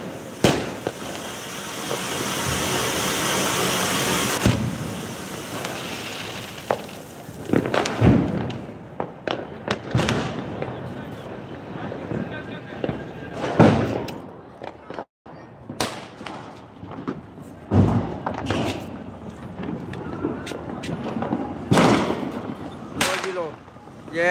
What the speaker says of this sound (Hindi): कैसे जला रहा बम